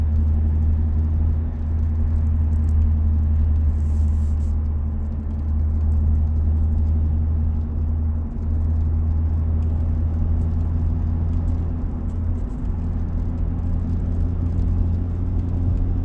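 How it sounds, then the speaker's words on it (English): Inside a moving car, a steady low engine drone and road rumble fill the cabin continuously, with no talking, just the constant hum of the vehicle being driven. "Bear with me, Akim, driving."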